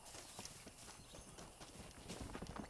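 A horse gallops in the Red Dead Redemption video game, its hooves clip-clopping in a quick, steady rhythm with a faint background hum, and no voices.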